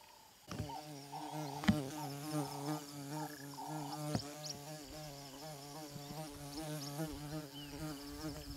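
A large buzzing insect, compared to a bumblebee, hums loudly and close around a person's head outdoors, its drone rising and falling continuously as it circles, with a few sharp knocks and no talk.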